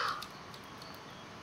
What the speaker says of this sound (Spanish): ¿Otro cuervo?